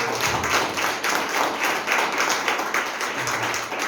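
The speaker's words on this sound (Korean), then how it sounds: "박수로 하나님께 영광을 드립니다" A Korean church congregation in Mexico claps together in praise during a Sunday service, producing a dense, continuous wash of applause that holds at an even level throughout.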